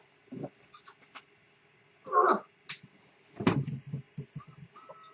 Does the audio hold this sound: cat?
yes